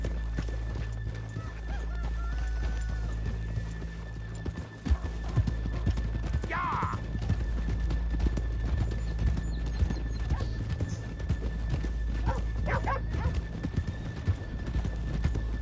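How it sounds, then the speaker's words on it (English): Horse hooves clip-clop in a steady trot in the video game Red Dead, with a horse whinnying briefly partway through. "let's leave the horses here off the main drag."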